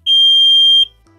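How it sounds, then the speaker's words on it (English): A loud, piercing electronic alarm sounds as a single steady high-pitched tone lasting under a second, then cuts off abruptly into near silence. "I think the alarm will go off."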